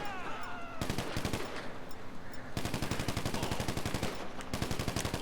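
Rapid automatic gunfire in the video game GTA 5, dense bursts of loud shots with brief gaps between volleys, steady and close.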